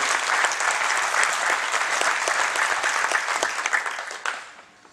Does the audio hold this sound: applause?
yes